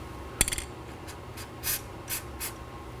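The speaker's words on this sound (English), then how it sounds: "Now I'm going to spray some anti-seize on the rest of the inner tie rod threads." Short hissing bursts from an aerosol can of anti-seize sprayed onto inner tie rod threads, a quick clicking at first and then several brief sprays in a quiet space.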